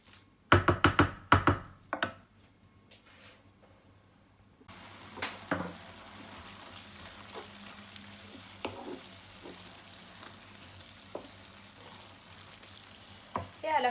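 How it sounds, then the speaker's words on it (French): Courgette cooking in a pan: a few sharp knocks of a utensil open, then a soft steady sizzle runs underneath with occasional light clicks and stirring taps, moderately close and quiet. "Et je laisse cuire courgette"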